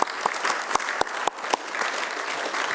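Audience members clap at a county commission meeting in the Sumner County, Tennessee chambers, steady applause from a modest group with a few louder individual claps standing out early.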